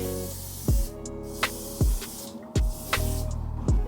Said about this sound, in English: let me just spray this